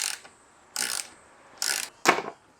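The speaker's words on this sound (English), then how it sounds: "Now I've got to get a 10mm spanner inside here around everything onto the top of the nut" A 10mm spanner ratchets on a nut while fitting a front lip to an Audi S3: four short, close, dry clicking bursts with quiet pauses between.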